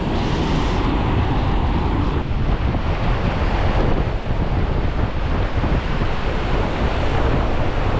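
Rough, stormy sea off the Jaffna coast, with waves crashing loudly and continuously as strong wind roars across the microphone throughout.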